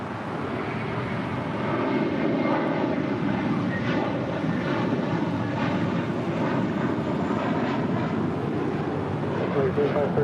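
A Singapore Boeing 777-300ER taxis toward the gates at LAX, its jet engines giving a steady, broad roar heard at a distance with wind buffeting, while people talk over it.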